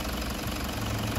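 A 2014 Toyota Prado with the 1KD-FTV diesel engine, reassembled after a decarbon job for lack of power, idles with a steady, dense mechanical clatter and hum that holds continuously at close range.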